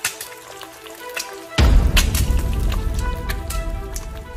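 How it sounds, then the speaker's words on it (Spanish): An egg hits a hot pan and starts frying, the quiet room giving way to a loud, steady crackling sizzle with sharp spitting pops that carries on up close. "Friendo un huevo."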